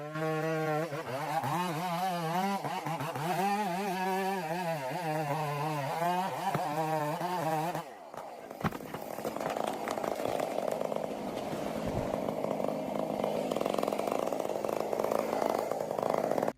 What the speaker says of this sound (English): a worker operates a long-bladed chainsaw, cutting into a large moss-covered tree trunk.